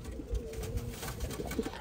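Pigeons coo inside a pigeon loft, a steady, low, throaty murmur that rolls on continuously with soft overlapping calls close by.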